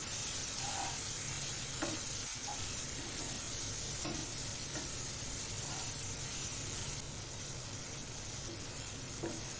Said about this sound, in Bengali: মশলাটা কন্টিনিউয়াসলি এভাবে নাড়তে থাকবো নাহলে আবার মশলা পুড়ে যায়